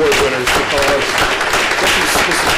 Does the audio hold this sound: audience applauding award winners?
yes